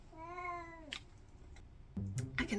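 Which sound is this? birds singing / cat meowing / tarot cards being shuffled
cat meowing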